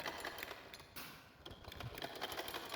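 A domestic sewing machine stitches a baby girl's frock in a quiet, close, slightly rattling run with brief pauses and fabric handling, sewing back over a seam to double it.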